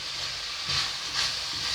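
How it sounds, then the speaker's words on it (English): Vegetables for cabbage soup steam in a covered pot, giving a steady close hiss that swells gently in two soft surges, with no voices. "Before you add water, you allow it to steam properly."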